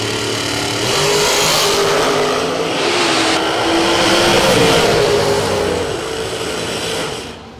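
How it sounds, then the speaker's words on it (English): Drag racing cars, including a 2018 American dragster, roar loudly down the strip at a drag race, a dense continuous engine blare swelling and shifting pitch before fading at the end. "Sean Parker, right side, 2018 American dragster."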